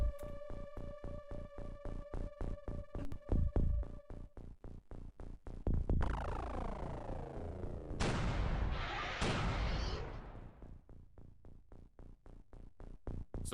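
A proximity grenade going off in classic X-Com, heard amid a steady rhythmic game soundtrack: several sharp, loud booming blasts with ringing decays stand out over the repeating beat.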